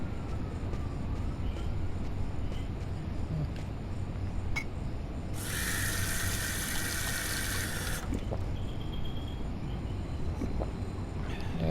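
Water runs from a tap in the video game Fahrenheit: Indigo Prophecy, a steady splashing gush lasting a few seconds before cutting off, set against low ambient game background with no talking.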